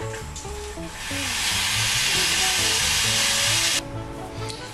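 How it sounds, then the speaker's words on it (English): Water comes to a boil in a large pan on a kitchen stove, a broad hissing, bubbling roar that swells and holds steady before easing off, with music playing throughout. "This water is already boiling."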